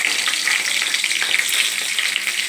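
Leftover cooked rice being tempered with green chillies in a hot pan, a steady bright sizzle of frying running continuously and fairly loud, with faint stirring scrapes underneath.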